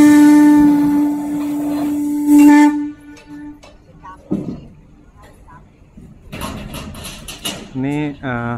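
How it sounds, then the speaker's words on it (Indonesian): A steamship's whistle sounds on a lake in Switzerland, a long, loud, steady tone held for about three seconds. It cuts off abruptly, and then quieter ambience and people talking follow. "Ini kapal uap beneran ya?"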